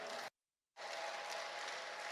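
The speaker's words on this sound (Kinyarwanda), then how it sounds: "Mureke dukomere Yesu amashyi tumushimire" A church congregation clapping together, a dense burst of applause that stops abruptly for a moment of silence and then resumes strongly.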